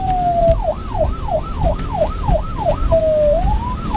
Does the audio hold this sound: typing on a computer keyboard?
no